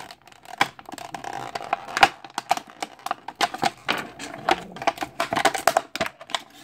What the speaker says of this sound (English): Where's that knife? I'm cutting this out.